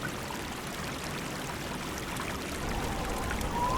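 Steady wind ambience from a relaxation sound app, a continuous broadband rushing hiss that stays even and moderately loud throughout, swelling slightly toward the end with no voices.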